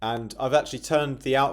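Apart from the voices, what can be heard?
No everyday noises stand out.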